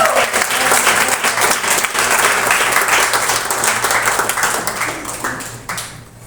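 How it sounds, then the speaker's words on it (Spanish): A church congregation at a Wednesday service applauds, with loud, lively clapping and individual sharp claps that gradually thin and fade toward the end. "Denle un aplauso al Señor."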